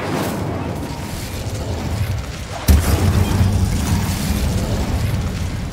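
A Bombarda blasting spell in Hogwarts Legacy detonates midway with a sudden deep boom, then a rumbling, crackling roar that keeps rolling under steady ambient noise.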